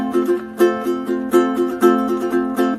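A ukulele strums chords in a steady, bright rhythm, each stroke ringing briefly before the next, with no voices.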